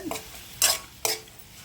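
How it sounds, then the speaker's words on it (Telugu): Soaked moong beans being stirred into oil in a pan for a sprouted moong curry: two short, fairly loud scraping stirs about half a second apart over a quiet background. "ఆ పెసలు వేసుకొని ఆ మొత్తాన్ని ఒకసారి కలుపుకోవాలి"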